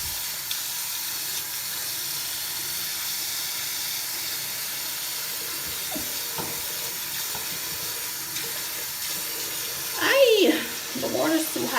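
Tap water runs steadily into a sink with a constant hissing rush; near the end a voice speaks briefly over it.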